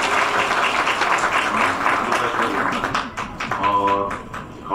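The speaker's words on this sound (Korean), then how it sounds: "다시 한번 박수 부탁드리겠습니다" A crowd at a primary school graduation ceremony applauds for parents and teachers: dense, sustained clapping that rolls on, thins slightly, and briefly swells again at the close.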